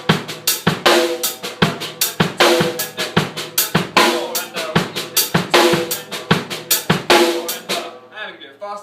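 A linear drum groove moves between kick, snare and hi-hat in a tight repeating pattern, each hit close and loud in a steady rhythm, and a voice speaks briefly as the beat stops at the end.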